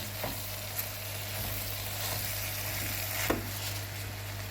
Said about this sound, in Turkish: Lahanalarımızı soğanla yavaş yavaş kavuralım. Karıştıra karıştıra kavuralım.